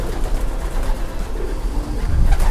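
Pigeons cooing in a racing or stock loft, a soft continuous low murmur of several birds close by, with no voices.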